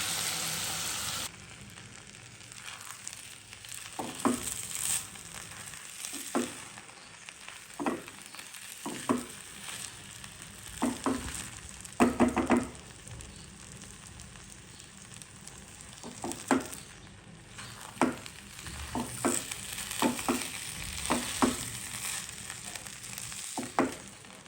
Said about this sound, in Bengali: এখন হচ্ছে ভালো করে কষাবো বেশ কিছুক্ষণ।